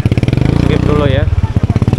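Motorcycle idling nearby on a street during a tense gathering, a steady pulsing engine chug that runs throughout, with a person speaking briefly over it.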